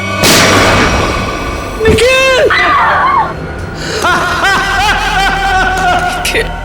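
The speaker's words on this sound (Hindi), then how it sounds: "गोली चलाइए सर।" A loud gunshot-like blast bursts out at the start of a scene in the Indian TV crime drama CID. Tense voices and dramatic tones follow.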